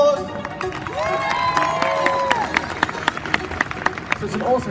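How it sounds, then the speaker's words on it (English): An audience at the Gammacon 2017 cosplay competition claps and cheers for a contestant, with whoops and voices rising over a steady patter of hand claps. "Another round of applause!"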